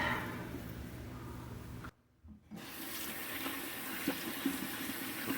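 Water runs from a bathroom sink tap while face cleanser is rinsed off, a steady faint hiss that breaks off briefly and then resumes with small splashes.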